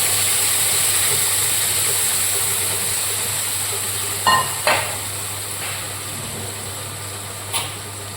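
Ground green paste for egg curry fries in hot oil, giving a steady broad sizzle with a few brief scraping stirs near the middle and end.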